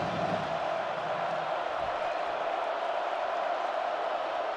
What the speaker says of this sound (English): Listen to this crowd get alive for this drive.